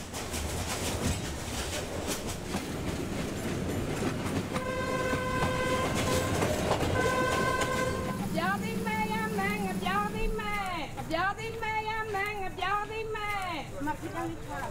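A train on a slow rail line in Myanmar's Shan Mountains, with continuous rumbling and rattling of the cars, a sustained horn partway through, then wavering squeals and a second horn as it rolls on.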